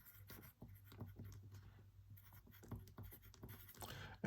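A pen writes on paper or a board during a physics worked example, giving soft, close scratchy strokes in short irregular bursts over a faint low hum, with no talk.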